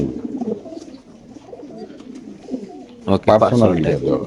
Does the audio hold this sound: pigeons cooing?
yes